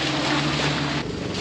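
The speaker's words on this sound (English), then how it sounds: "Great, it's nice and windy." Strong wind roars and buffets the microphone in a dense, continuous rush outdoors on a farm, briefly easing near the end.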